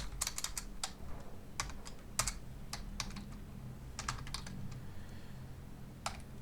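A command is typed on a computer keyboard in an Ubuntu terminal, with short bursts of sharp, close key clicks separated by brief pauses, alone over a quiet background hum.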